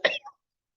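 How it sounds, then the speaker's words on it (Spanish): A short dry cough from a man with a parched throat during a lecture on commercial company liability, one harsh burst followed by a smaller second catch, close and then silence. "estos días con el aire tengo un tos, se me secó la garganta"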